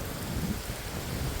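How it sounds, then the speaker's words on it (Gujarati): Heavy rain pours down in a dense, even roar with a low rumble beneath it, a brief steady wash of sound with no voices. "પૂર જોશમાં વરસાદ"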